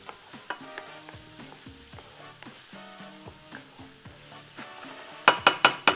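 Garlic sizzles in a pan for shrimp tagine while a utensil stirs and scrapes in a steady rhythm, with a few sharper metallic clinks near the end.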